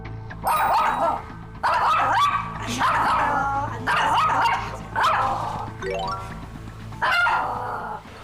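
A pet dog barks in short, loud bursts indoors at a music academy, about six sharp volleys spaced roughly a second apart, with yips and a rising whine among them and faint voices underneath.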